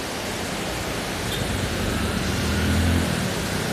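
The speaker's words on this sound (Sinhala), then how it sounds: "මේ බලන්න පාලම යටින් ගලාගෙන යන මේ දිය ඇල්ල" A waterfall rushes beneath a bridge at Rakwana Maha Diya Lanka, a steady broadband roar of falling water that holds evenly throughout and swells slightly toward the end, with no voices.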